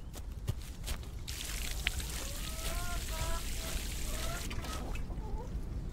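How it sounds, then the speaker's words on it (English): Plants being watered in the video game We Harvest Shadows, a continuous trickling pour over a noisy background, with a few faint chirping tones and scattered clicks around it. "now I can water my plants"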